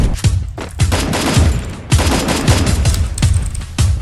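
Rapid bursts of automatic gunfire from the mobile game Garena Free Fire, loud and close, with repeated sharp shots in quick volleys and short gaps between them.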